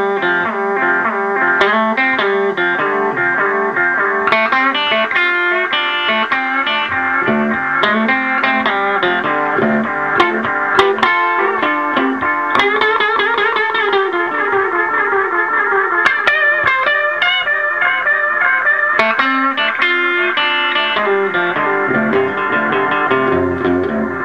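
An electric guitar played through a Blues Factor delay pedal, each note trailed by echoing repeats that blur into a dense, continuous wash, loud and steady without talking.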